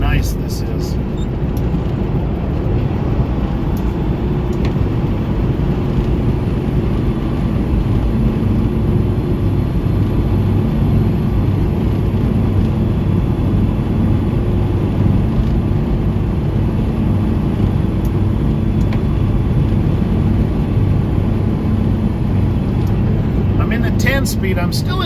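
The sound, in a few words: tanker truck engine driving uphill in 10th gear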